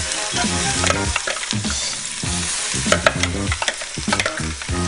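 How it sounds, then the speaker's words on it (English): Seasoning paste with ginger, garlic and scallions sautés with bacon in a pot, a steady loud sizzle broken by repeated scraping stirs and clinks of a utensil against the pot, with no talking. "Next, we're gonna add our seasoning paste. We're gonna let this saute along with the bacon"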